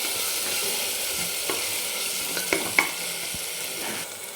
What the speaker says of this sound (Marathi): हे अर्ध मी वाटण टाकून घेतलं आहे आणि ह्याला पण चांगलं परतून घ्यायचं आहे